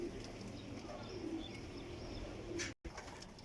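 Pigeons in a loft coo low and soft at intervals under a busy, faintly noisy background, with a brief dropout near the end.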